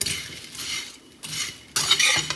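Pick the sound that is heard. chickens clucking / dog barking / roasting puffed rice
roasting puffed rice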